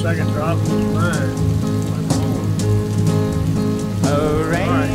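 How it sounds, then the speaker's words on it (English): Rain falling steadily on surfaces, a continuous patter of drops over a sustained musical background. "Oh, rain drops. So many rain drops."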